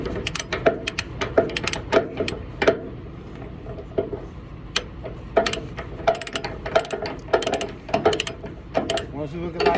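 A ratchet strap securing a load on a flatbed trailer is cranked in repeated bursts of sharp metallic clicks, close and loud, with short pauses between strokes.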